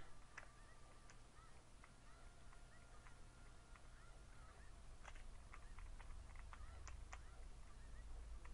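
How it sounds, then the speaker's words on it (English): Short squawking chicken calls pop up repeatedly as chickens attack in The Legend of Zelda: Ocarina of Time, over a steady low rumble and game background noise, with a brief voice now and then. "Chickens attack."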